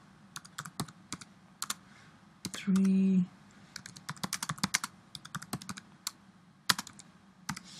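Typing on a computer keyboard, sharp irregular clicks and keystroke bursts, close and fairly quiet, with a brief steady tone in the middle and a single spoken word.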